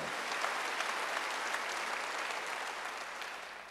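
A church congregation at a Wednesday service claps in a dense, steady burst of applause, heard from across the hall and tapering slightly at the end.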